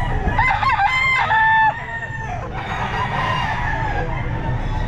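A ten-month-old Raptor Sweater gamefowl rooster crows loudly and close by at a pet market, giving one drawn-out cock-a-doodle-doo over the hum of a busy crowd.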